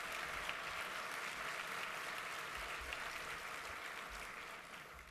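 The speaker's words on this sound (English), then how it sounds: "just giving our governor one more round of applause as well" A room of guests at the Sacramento Host Breakfast applauds the governor, a steady, even patter of many hands at moderate distance, sustained for about five seconds and tapering slightly at the end.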